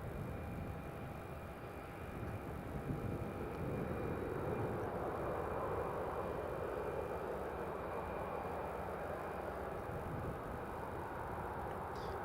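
Saudia Boeing 777 on final approach to land at Newcastle International Airport, a steady broad engine rumble and roar holding at an even level throughout, distant and continuous without any voices.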